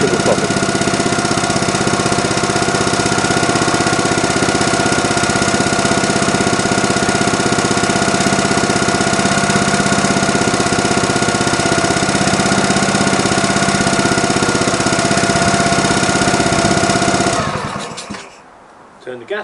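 A homemade generator driven by a propane-fuelled lawn mower engine runs at a constant, droning pace for a long stretch, loud and close, then cuts out abruptly, leaving brief rattles and near silence.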